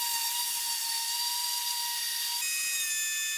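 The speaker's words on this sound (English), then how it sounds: "I'll just give it a quick sanding with the orbital sander through all the grits" Orbital sander working over wood, a steady high-pitched whine with hiss that holds throughout, its pitch stepping slightly near the end, loud and close with no talk.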